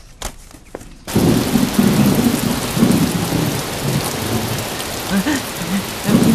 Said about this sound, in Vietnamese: Sắp mưa rồi, thu mau đi.